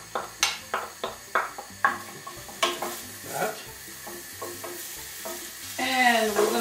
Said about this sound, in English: And we throw 1 bit of onion in there and see it sizzle.